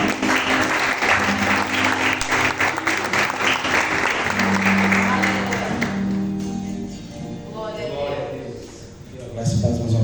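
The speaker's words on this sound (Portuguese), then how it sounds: "Aplauda o Senhor." Church congregation applauding in a worship service, a dense broadband clatter of many hands that fades partway through, with a low sustained musical tone and a voice speaking over it.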